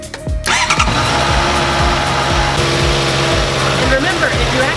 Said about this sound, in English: I can start the motorcycle with the starter